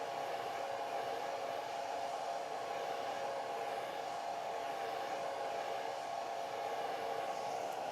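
A hair dryer blows steadily on watercolor paint, a constant close airy whoosh with a strong motor hum that holds at an even level throughout with no voices.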